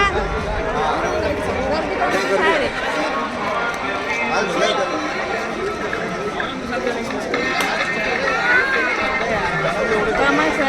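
Crowd at the entrance of Wet 'n Joy water park in Lonavala: dense, continuous babble of many voices and footsteps, with nearby people talking over the hubbub.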